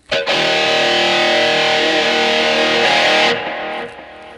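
A sustained, distorted electric guitar chord rings out through a 1986-style delay on a Boss eBand JS-10, echoing repeats trailing off as the note fades.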